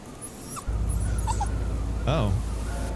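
A dog whimpers and yips in the horror video game Go Home Annie, a few short high whines over a steady low ambient drone, with a person talking briefly.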